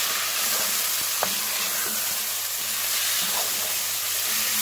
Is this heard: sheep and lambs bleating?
no